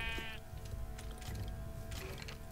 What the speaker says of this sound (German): Und ein Schaf ist hier auch.